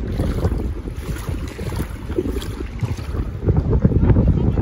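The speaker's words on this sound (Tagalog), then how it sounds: "Hangin na naman" Gusty wind buffets the microphone continuously while traveling along a flooded road on the way to work, a heavy low rumble that swells and surges, growing louder toward the end, with no talking.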